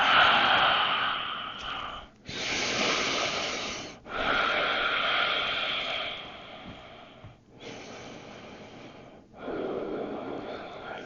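Slow, deep breathing during child's pose in a yoga session, about three long airy breaths with short pauses between them, close and clear, with no talking.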